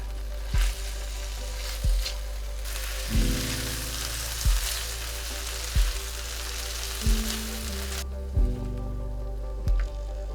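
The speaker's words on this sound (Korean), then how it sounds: "그리고 고기 기름 그대로 채소를 볶는다." Vegetables stir-frying in leftover steak fat in a pan, a steady close sizzle with a soft scrape or stir about every second or so and no voices.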